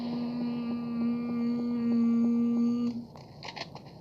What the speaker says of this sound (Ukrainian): Гелікоптер, гелікоптер!